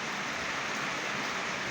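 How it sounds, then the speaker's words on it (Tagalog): Heavy rain pouring during a flood, a dense, even hiss of falling water that continues unbroken at steady loudness. "Kasi malakas yung ulan."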